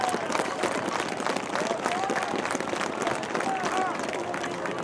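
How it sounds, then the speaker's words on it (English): Stadium crowd at a high school varsity football game applauding during a memorial hall-of-fame ceremony, steady distant clapping with crowd murmur throughout. "A round of applause, please,"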